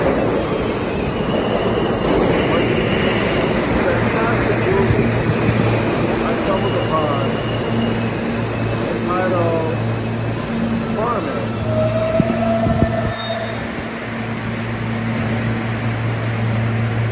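A subway train arrives in New York City on a rainy day, with a continuous rumble of rail cars, squealing wheels and brief high tones. A voice speaks over the noise.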